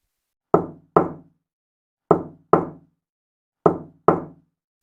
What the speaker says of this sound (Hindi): उसे लगा कोई दीवार के उस पार धीरे धीरे खटखटा रहा है।